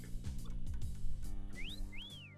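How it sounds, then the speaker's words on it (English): A high whistling tone slides upward twice near the end of the recording, heard over a low, steady hum and background rumble indoors, with no one speaking. "there's something whistling."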